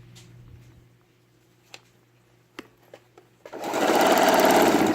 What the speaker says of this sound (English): Stitching up and stopping at our notch.